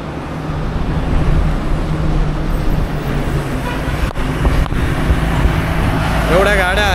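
Road traffic rumbles steadily from a long queue of cars on a highway during a road trip toward Goa, a loud continuous engine drone with people talking nearby.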